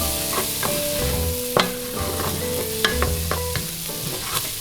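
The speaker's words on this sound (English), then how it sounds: "I'm going to cook this until the onions are very soft." Onions and bacon sizzle in a pan with a steady, close hiss, broken by several sharp utensil clicks and scrapes, while a low tonal hum and soft background music-like tones run underneath; no one speaks.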